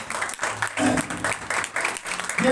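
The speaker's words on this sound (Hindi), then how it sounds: "ताली बजाइए।" A church congregation claps together in a dense, steady burst of applause that stays loud for the whole stretch, without talk over it.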